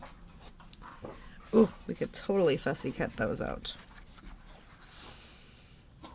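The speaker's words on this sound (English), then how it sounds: "The dogs are going crazy." Dogs panting and whimpering excitedly indoors during a papercraft session, quick breathy pants and small whines mixed under a voice talking nearby.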